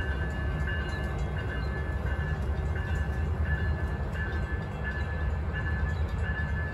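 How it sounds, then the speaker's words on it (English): Amtrak P371 passenger train passing Holland station in Michigan, a steady loud rumble of wheels and cars rolling by close at hand, with faint rhythmic rail clicks and no talking. "There goes Amtrak P371"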